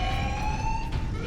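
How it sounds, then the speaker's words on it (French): A steady electronic structural damage alarm tone sounds in the Warhammer 40k Space Marine video game, holding a continuous wailing pitch throughout. "Alarme, dégâts structurels."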